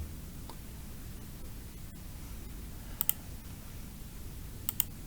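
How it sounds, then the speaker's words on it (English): Mouse clicks on an install button on a Windows desktop computer: two quick pairs of sharp, close clicks over a faint background hiss, with no voices. "Now click on install."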